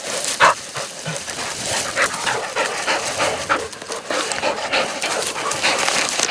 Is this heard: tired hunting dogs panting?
yes